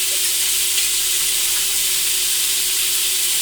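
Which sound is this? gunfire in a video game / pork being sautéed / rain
pork being sautéed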